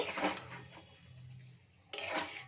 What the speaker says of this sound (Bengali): দুধের স্বরটা দিয়ে একটু নাড়িয়ে নেব।